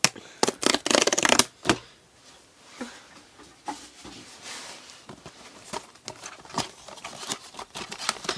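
A chocolate package is torn open close up before making fresh homemade chocolate: sharp crinkling rips at the start, followed by scattered crackles and rustles of wrapper, with no voices.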